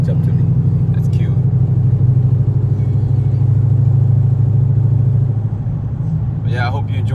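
Steady low engine drone inside the cabin of a Dodge Charger R/T swapped to a 6.4 engine, loud and continuous while cruising, with a brief passing vehicle near the end.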